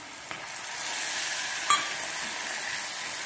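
Ground tomato paste poured into a pan of sizzling garlic gravy, a steady frying hiss throughout with a brief clink near the middle, no voices.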